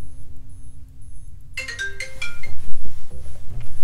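A mobile phone ringtone plays loud and close, a melodic repeating tune that rises in volume and becomes rhythmic, with no talk over it.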